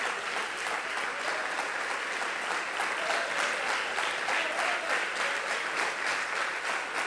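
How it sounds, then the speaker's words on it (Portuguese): A church congregation applauds Jesus during a testimony service, steady sustained clapping from many hands filling the room without pause. "Pode aplaudir a Jesus."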